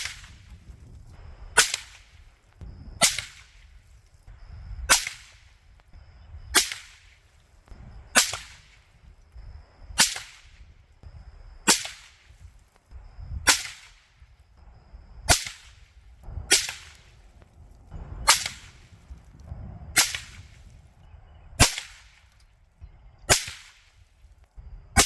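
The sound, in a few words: 22 ARC rifle gunshots firing handloads at targets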